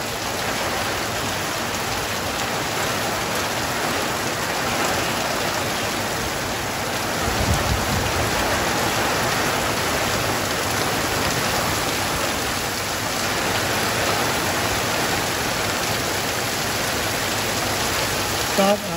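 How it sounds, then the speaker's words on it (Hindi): A fast, heavy monsoon-style downpour driven by strong wind roars steadily and loudly, a dense unbroken wash of rain noise close by with a brief low gusty rumble midway and no speech. "फास्ट बारिश हो रही है अभी तो, और पवन भी बहुत आ रहा है"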